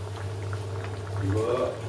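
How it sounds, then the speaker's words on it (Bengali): A pot of pointed gourd curry bubbles on the stove, a soft continuous simmer with small liquid pops, while a person talks over it. "আর ওই ধারে তোমার পটলের তরকারি চাপিয়ে দিলাম"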